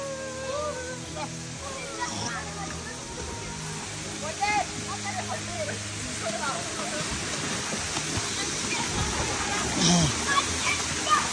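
Pinjure waterfall at Naubise pours in a steady, broad rush of falling water, with voices talking and calling over the continuous roar.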